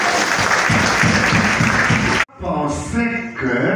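A church congregation applauds for about two seconds, a dense burst of clapping that cuts off abruptly, followed by someone speaking over a quieter room.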